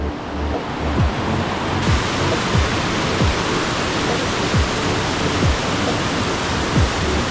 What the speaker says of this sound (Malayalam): ഇതാണ് കേട്ടോ ആ വെള്ളച്ചാട്ടം.